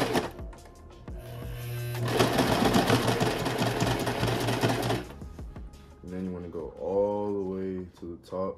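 A sewing machine stitching flared jeans runs in a fast, dense mechanical whir for a few seconds, with a person talking nearby before and after it.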